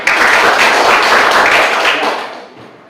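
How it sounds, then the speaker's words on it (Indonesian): A burst of applause from a classroom group fills the room, steady clapping for about two seconds before fading out. "Tepuk tangan untuk kelompok 3."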